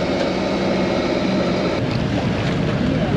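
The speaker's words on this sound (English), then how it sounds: "And the waves are starting to roll in, big rollers." Big ocean rollers wash against a sailing boat off the Spanish coast, giving a loud, continuous rush of water and wind with steady buffeting noise and no talk.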